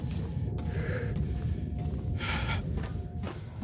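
A monster in the Silent Hill 2 Remake breathes heavily nearby, with a few slow, airy, gasping breaths rising and falling over a low, dark ambient hum.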